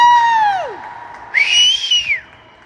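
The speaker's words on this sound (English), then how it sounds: "I normally can whistle better" A spectator whistles at a youth 16U AAA ice hockey game: two loud, close whistles, first a long pitch that slides downward, then a brief pause and a rising-then-falling arched whistle over faint crowd noise.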